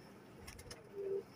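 A teddy pigeon gives a short, soft coo near the end, faint and low, with a few light rustles before it and a quiet background.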